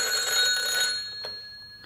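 A telephone bell ringing in a radio play, a bright electric ring sounding clearly and alone before fading after a short click.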